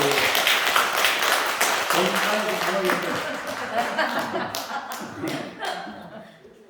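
A small church congregation claps during a Sunday worship service, with scattered hand claps running throughout and voices and laughter mixed in, fading toward the end.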